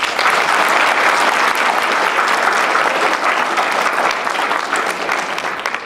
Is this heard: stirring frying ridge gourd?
no